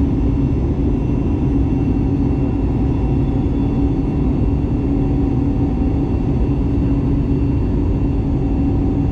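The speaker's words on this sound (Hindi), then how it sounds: "इंजन का आवाज अंदर तक पहुंच रही है।" A jet airliner's engine drones inside the cabin during a climb-out from Jaipur, heard from a seat near the engine as a steady, loud, low roar with a faint whine riding above it.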